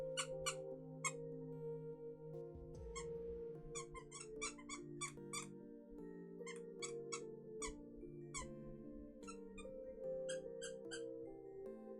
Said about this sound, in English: Dog really loves that squeaky toy.